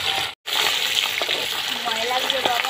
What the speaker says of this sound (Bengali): তেল গরম হয়ে গেছে, ছেড়ে দিচ্ছি